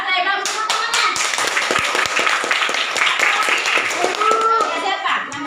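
Children in a classroom clap their hands in quick, loud, uneven bursts, with a teacher's voice and kids' chatter mixed in throughout.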